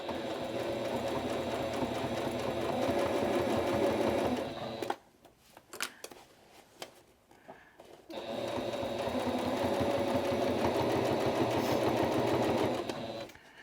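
A sewing machine runs close and steady, stitching through stacked layers of a deck cushion cover, in two long bursts separated by a few seconds of quieter, irregular handling sounds.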